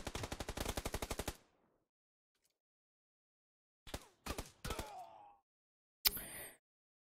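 Bursts of Vector submachine gun fire in a shooter video game: a rapid sustained burst of about a dozen shots, a pause, then several short bursts with ringing tails and a final sharp burst, no voices.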